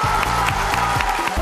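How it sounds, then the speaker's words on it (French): Audience applauding the finalists of a televised school quiz final, Génies en herbe 2014-2015, with steady close clapping from a crowd sustained through the moment, no talk over it. "on les applaudit s'il vous plaît"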